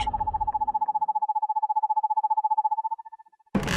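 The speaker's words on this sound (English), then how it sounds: "I think I need to follow the owl." Owl in the video game Perception, a rapid steady series of clear pulsing hoots close by for about three seconds, fading out before a burst of other noise.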